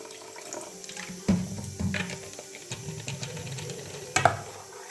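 A little water splashes into a bowl of dosa batter, followed by wet stirring and scraping with a few sharper knocks of the utensil against the bowl, close by and with no talk.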